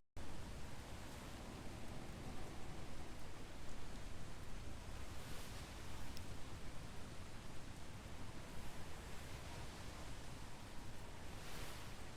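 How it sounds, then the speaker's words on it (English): Steady, even video game rain hisses continuously throughout, a soft wash of noise with no other sounds on top. "Well, it's raining, but it could be worse."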